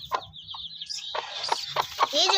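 Desi Aseel chickens cluck and squawk nearby in short bursts, with a rooster-like call rising toward the end.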